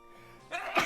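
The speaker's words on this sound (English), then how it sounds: "Oh, I need to sneeze." A single close sneeze during a livestream: a quiet intake, then a loud burst near the end.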